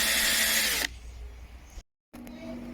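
Cordless drill, an Einhell TC-CD 18/35 Li with mechanical clutch, countersinking holes in an IKEA bed: a loud steady whir for nearly a second, then quieter low hum and handling noise, a brief silence, and a renewed steady motor tone.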